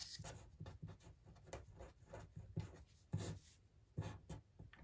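Chalk or a marker writes on a board in a quiet classroom with soft, close scratching and tapping strokes in an uneven rhythm and no talking.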